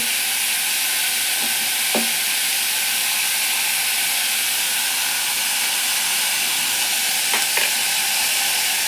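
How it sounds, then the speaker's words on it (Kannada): North Karnataka–style ridge gourd curry fries in a pan with salt, chilli paste and garam masala. The sizzle is loud and continuous, with a few sharp scrapes from stirring. "ಹಾಕ್ಬಿಟ್ಟು ಚೆನ್ನಾಗಿ ಫ್ರೈ ಮಾಡಬೇಕು"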